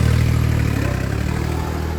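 A 4x4 tractor strains to pull a stuck soil trolley, its engine giving a loud, steady, close low drone with a slight rhythmic pulse throughout.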